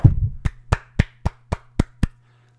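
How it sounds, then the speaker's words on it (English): A few people clap in slow, steady unison, about eight distinct claps evenly spaced, fairly close and unaccompanied by voices. "Bravo. Round of applause."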